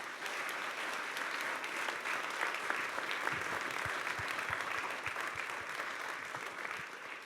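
An audience applauds at a closing municipal election debate in Damwâld, Dantumadiel, a steady, moderately distant wash of clapping with a few low thumps and no talk.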